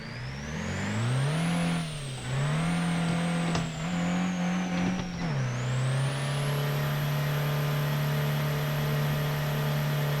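Delivery van engine running after a slight crash, a steady close mechanical drone that wavers up and down in pitch for several seconds, then settles into a constant hum with a high whine above it.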